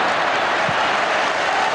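Football crowd at a Manchester City versus Manchester United match applauding, a steady broad wash of clapping and crowd noise filling the whole stretch without a break.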